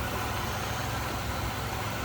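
A 2003 Chevrolet Monte Carlo SS idles smoothly and steadily, a constant close engine drone with no talking.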